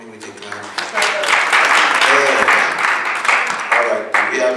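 A crowd at a business leadership summit applauds, steady clapping that builds and holds, with a voice faintly mixed in near the end.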